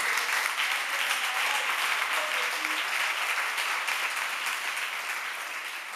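Church congregation applauding and cheering in praise, a dense, sustained wash of clapping that fills the room evenly before slowly tapering off near the end.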